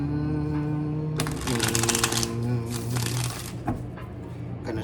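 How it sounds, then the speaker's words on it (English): Moonology oracle and tarot cards being shuffled by hand, a dense papery riffling that comes in bursts over a steady background hum. "Gonna shuffle them on camera for y'all and cut them."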